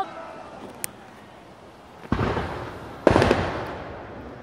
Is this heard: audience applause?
no